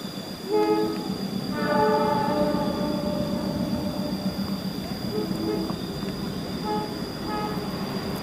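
A passenger train running from Pasar Senen to Solo Balapan rumbles past close by, its horn sounding in repeated tonal blasts and wheels squealing over a long, steady roar of wagons.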